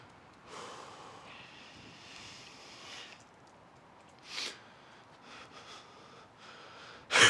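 Heavy breathing during calisthenics work on L-sits and pike push-ups: close, soft exhales and snorting breaths in short bursts, ending with a sharp loud gasp, no talking.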